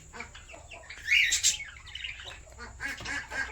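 Pet birds in a breeding box giving a couple of sharp, close squawks and chirps amid quiet background hiss.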